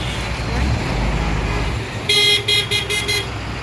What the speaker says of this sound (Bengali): ফরিদপুর মধুখালী রেল গেট কি জাম বেঁধেছে রেল গেটে। গাড়ি আর গাড়ি, গাড়ি আর গাড়ি।